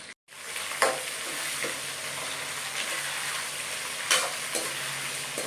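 Onions frying and being stirred in a pan for vegetable rava upma, a steady close sizzle with a few scraping stir strokes, no talk.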